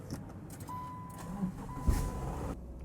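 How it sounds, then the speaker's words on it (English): A Subaru Outback starting up, the starter cranking briefly into a short engine catch near the end of a quiet cabin moment, with a faint electronic chime before it. "I'm gonna start the vehicle"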